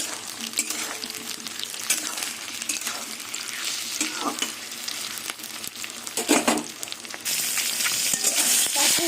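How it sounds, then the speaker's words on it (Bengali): Potatoes, onions and tomatoes fry in oil in a pan with a constant sizzle and frequent scraping stirs. Near the end the hiss suddenly grows louder and fuller. "এই আলু পেঁয়াজ ভাজছি এই ভাজার মধ্যে টমেটোগুলো দিয়ে দেবো টমেটোগুলো ভাজা হয়ে যাবে তেলের সাথে"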